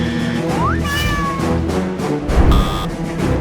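A cat meows loudly and close, one rising drawn-out call followed by another shorter meow, with faint background noise in between.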